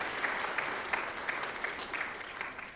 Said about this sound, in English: So if we could just give them a round of applause this morning to thank them